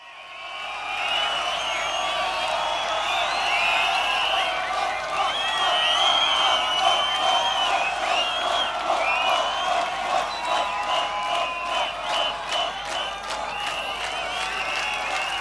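A large audience applauding steadily for several seconds, dense clapping with scattered whoops, tapering into more distinct individual claps near the end.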